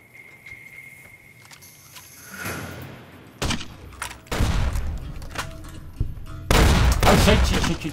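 Gunfire and explosions fill a raid on a Legion camp in Fallout New Vegas, starting after a quiet stretch with a high insect-like hum, then loud close bursts that grow denser and heavier toward the end.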